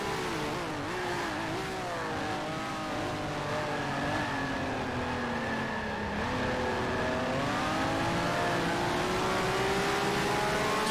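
A Maserati racing car engine in the Grand Prix Legends racing game drones loudly and steadily close behind, its revving pitch rising and falling in smooth sweeps with no talk over it.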